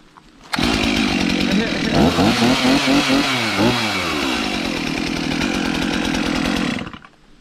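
A new Stihl chainsaw, choke set halfway, fires up and runs steadily at high revs, loud and close, with a rising and falling buzzing whine mid-run before it cuts off near the end.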